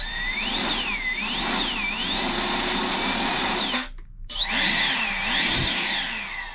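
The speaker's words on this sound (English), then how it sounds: "I need to make sure that the fan blades are at a complete stop before I throw the motor in reverse" An electric ducted fan motor on an RC jet car whines at high pitch, rising and falling in sweeping surges. It cuts out briefly to near silence, then spins up and swoops again.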